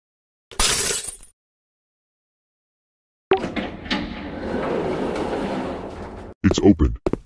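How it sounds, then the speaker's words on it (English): A glass window breaks in the video game Pink Monster Life Challenge: a sharp crash, then a long noisy stretch of shattering and clattering debris, ending with a few quick loud knocks. "Use your drone and break the window to get in the room."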